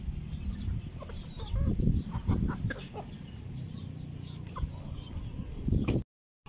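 Large pet chickens on a backyard farm clucking intermittently at close range over a low hum of background noise, several short bursts of clucks scattered through before an abrupt cutoff.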